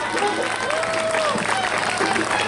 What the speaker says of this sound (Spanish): quisiera pedir un aplauso para ellas porque se lo merecen